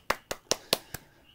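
Five separate, evenly spaced hand claps, close and crisp, given as applause for Charles Lee at a photography lecture, with no voices over them.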